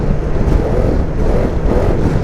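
Zontes M310 scooter's single-cylinder motorcycle engine pulling hard under acceleration while riding, a steady, loud low rumble blended with heavy wind buffeting for just over two seconds, with no talk.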